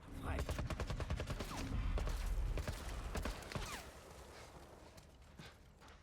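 Gunfire in The Last of Us video game, a rapid, dense fusillade of sharp cracks and clatter that thins out toward the end, with voices talking underneath.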